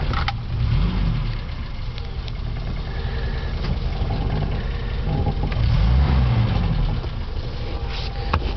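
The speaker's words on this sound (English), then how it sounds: "here's an idea of what the car sounds like to start and what she sounds like when she's running" A campervan engine cranks, starts and settles into a steady, rumbling idle, close and loud, with a couple of swells in revs and no talking.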